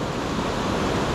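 Ocean waves break on a San Diego beach on an overcast morning, a loud, close, continuous roar of surf with wind noise and no voices.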